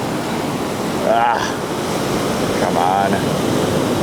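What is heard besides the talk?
ocean waves breaking on the shore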